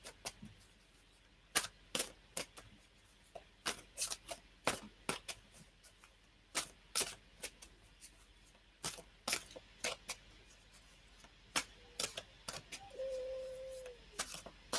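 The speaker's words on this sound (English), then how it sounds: "I'm shuffling these cards." Tarot cards are shuffled by hand in close, crisp bursts of riffling and snapping, irregular and quiet between the clusters, with a brief murmur of voice near the end.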